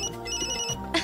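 A phone rings indoors, a bright repeating electronic ringtone that sounds steadily on its own and grows louder toward the end, with no talk over it.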